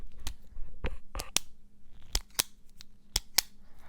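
Sharp, crisp clicks of a magnetic Visconti Breeze fountain pen cap snapping shut, repeated about eight times at uneven intervals, close and isolated.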